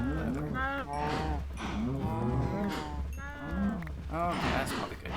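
A herd of cows in a video game keeps mooing, a string of loud, close, overlapping bellows in steady succession, with a voice faintly present underneath.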